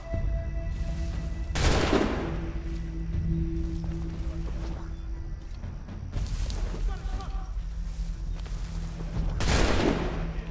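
Gunfire in the video game Assassin's Creed III, with several loud booming shot blasts spaced a few seconds apart over a rumbling game soundscape and steady background tones, alongside voices talking.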